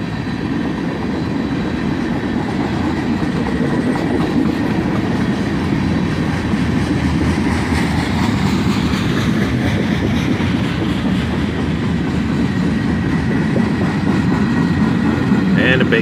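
A CSX freight train hauling a long cut of empty flat cars rolls past close by, a steady loud rumble with clickety-clack of wheels and faint squeal throughout.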